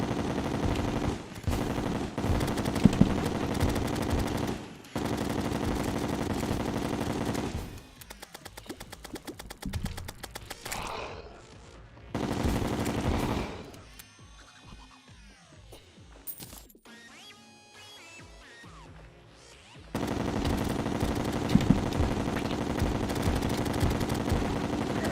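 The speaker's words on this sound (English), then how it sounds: "I'm certainly loving chlorophyte bullets to take out those crawlpedes." Rapid chlorophyte bullet fire in Terraria, shot at crawltipedes in an endgame Master Mode fight, comes as stretches of dense automatic gunfire. Gaps, quieter stretches and bursts of other game effects break it up.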